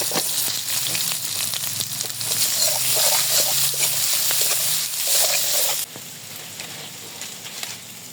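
Chopped onions hit hot oil with chopped garlic for a beef liver bhuna, giving a steady, loud, close sizzle that drops noticeably quieter near the end, with no talking.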